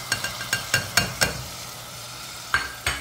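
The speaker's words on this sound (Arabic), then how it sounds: "كنقلب هاد الجدر" Food stirred in a cooking pot over heat, a spoon scraping the pot in about half a dozen sharp, close strokes over a low sizzle, then a pause and two more strokes.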